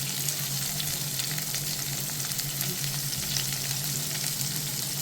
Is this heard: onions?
yes